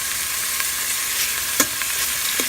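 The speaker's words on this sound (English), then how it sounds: "Go ahead and brown up this pork" Pork browns in a pan with garlic, giving a steady bright sizzle with a few soft stirring scrapes and clicks over it.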